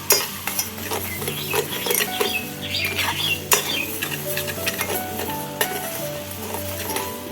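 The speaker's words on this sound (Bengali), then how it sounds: "নাড়তে হবে, না হলে কিন্তু চিনিটা তলে লেগে যাবে।" Sugar is stirred in a hot pan while caramel forms for caramel milk tea: a spoon scrapes and taps the metal over a soft sizzle, with sharp irregular clinks and a faint tonal hum underneath.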